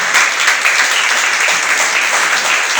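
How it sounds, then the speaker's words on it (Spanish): A church congregation claps together in steady, dense applause that stays loud and even from start to finish, with no break. "Denle un aplauso al Señor."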